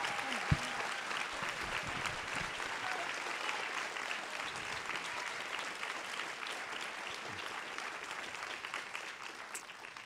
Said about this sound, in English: Let's give him another round of applause for his work.